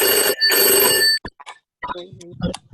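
A telephone bell rings loudly in two long bursts separated by a short gap, close and clear. A voice then begins speaking right after the ringing ends.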